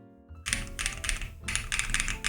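Keystrokes on a Breeze75 mechanical keyboard come in quick clustered bursts of soft, creamy clacks after a short quiet start, close and fairly gentle, with no one speaking.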